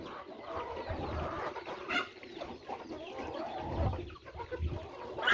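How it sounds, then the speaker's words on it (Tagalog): Chickens clucking and murmuring nearby, with a few louder squawks over soft rustling background. "Yan, yung ating mga alagang manok."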